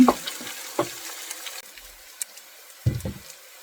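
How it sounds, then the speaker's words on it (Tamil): Onions sautéing in oil for a fish curry, a faint sizzle punctuated by a few short scraping stirs of a spoon in the pan, with no talking. "நல்ல வடிவா பொன்னிறமா வதங்கி வரட்டும்"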